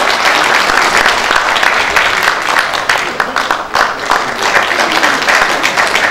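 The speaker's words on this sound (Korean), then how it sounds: "여러분 큰 박수 부탁드립니다" An audience at a Korean regional assembly members' rally breaks into loud, sustained applause, with a brief dip midway and some voices blended in.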